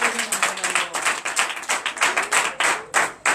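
A church congregation at a night deliverance and prophecy service claps together, a steady stream of sharp, fairly close hand claps with uneven rhythm filling the space, with no talking over it.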